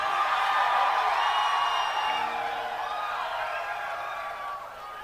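A concert crowd at a show at Club Rio in Tempe, Arizona, cheers and whoops in a steady, dense roar that slowly fades over several seconds, with scattered shouts and whistles.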